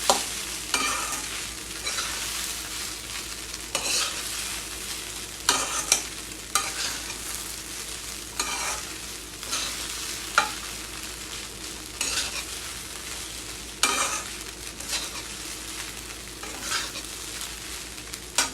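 Sabudana khichdi is stirred in a hot pan, a steady sizzle broken by repeated scraping strokes of the spoon at an uneven rhythm, close and clear with no voices.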